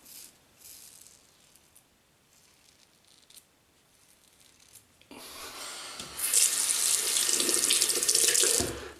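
Razor being rinsed under a running tap at a sink during a shave, a quiet moment giving way to a loud, steady gush of water splashing close by for several seconds.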